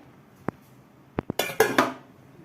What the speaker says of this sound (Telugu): కొద్దిసేపు మూత పెట్టుకుందాం మరి ఓ పది నిమిషాలు అలా